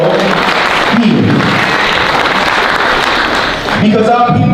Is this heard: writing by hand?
no